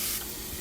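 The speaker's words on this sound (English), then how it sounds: "Add some more eggs in the middle, and then cook the egg." Eggs sizzle in a hot pan beside cooked vegetables while fried rice is being made, giving a short, close, steady hiss with a brighter burst at the start.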